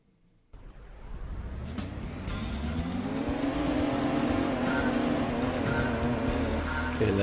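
A race car in Gran Turismo 2 accelerates with a steady, loud engine drone on Tahiti Road, tires squealing faintly over the sustained roar, with no voices.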